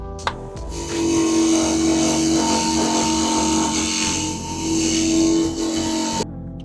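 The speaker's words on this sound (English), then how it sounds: "see if I can get the bench grinder on it" A bench grinder fitted with a wire brush wheel, used on ex-military Land Rover Series 3 parts, runs up and holds a steady loud whirring drone with a high scratchy hiss before spinning down near the end.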